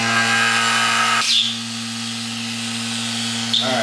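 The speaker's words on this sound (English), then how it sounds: "Connect the vacuum pump to it, nice and snug." Vacuum pump running for carbon fiber vacuum bagging: a steady, loud motor hum with strong tonal drone, briefly changing pitch as air is drawn, close and continuous throughout.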